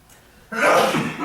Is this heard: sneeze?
yes